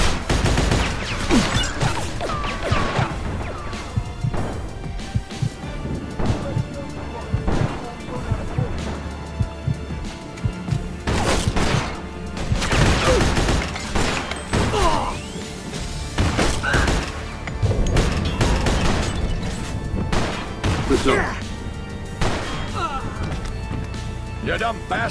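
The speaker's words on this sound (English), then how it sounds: "Oh shit, shotgun." Shotgun blasts and other gunfire in the Mafia 2 video game, loud repeated shots and crashes spread across a long firefight, with voices talking over the action throughout.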